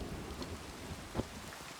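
Heavy rain in a cave-exploring video game hisses steadily at low level, with a soft rumble of thunder and a brief swell, with no voices.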